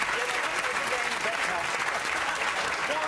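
Studio audience of a comedy panel show applauds, a continuous, even roar of clapping filling the room from start to finish.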